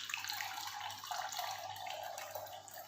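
Hot water pours in a steady, continuous stream into a bowl, a soft, even splashing rush lasting the whole few seconds with no other sounds.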